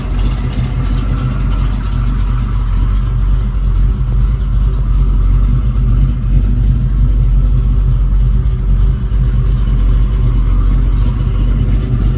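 A 1969 Chevrolet Camaro SS restomod convertible with a 383 V8 and automatic transmission runs with a steady, loud, low rumble that holds constant with no talking.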